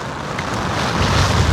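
Wind and rain outdoors, a loud, rushing gust buffeting the microphone that builds steadily in strength over a second and a half, with no voices.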